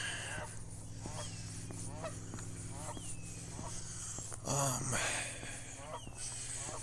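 A goose honks repeatedly at a moderate distance at Pompeys Pillar, short nasal calls spaced out over a constant low hum, with one louder burst near the end.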